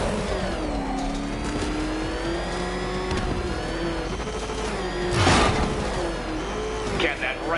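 A car engine in a Batman video game drones and revs steadily at mid pitch with a swell near the end, while a voice talks over it.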